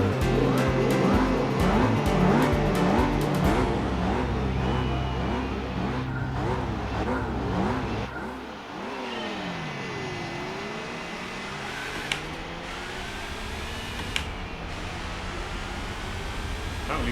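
Race cars in Gran Turismo 4 pull away from the start at Fuji Speedway 90s: loud engine notes climb and fall through gear changes, then fade into a quieter droning pack as the field spreads out.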